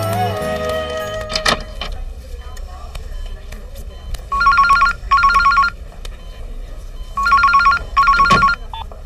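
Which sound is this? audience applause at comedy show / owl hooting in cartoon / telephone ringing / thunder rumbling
telephone ringing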